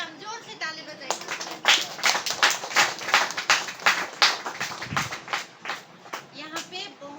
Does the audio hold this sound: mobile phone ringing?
no